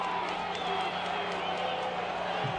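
Football crowd at Cheney during an Illinois State versus Eastern Washington FCS quarterfinal, a broad sustained roar of cheering and whooping with commentary voices over it.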